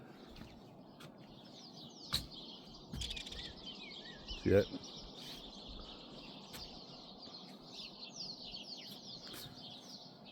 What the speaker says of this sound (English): I just want you to hear the sound of the birds.